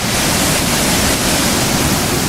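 A river waterfall heard from a spot almost directly above the falls gives off a constant loud, broad rushing roar with no break.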